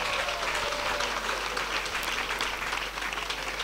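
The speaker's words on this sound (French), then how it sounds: "Let's clap for Jesus." Congregation clapping for Jesus at a French-language church revival gathering, a dense, steady wash of many hands filling the whole stretch at a constant level with no voices standing out.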